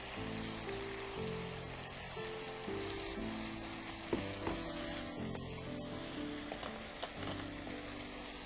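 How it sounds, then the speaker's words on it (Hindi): Masala with green chili and salt fries in a pan, a steady crackling sizzle heard close, with light clinks of a utensil stirring through it. "भुनना भी शुरू हो चुका है ये।"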